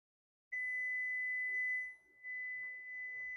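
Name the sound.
kitchen timer beeping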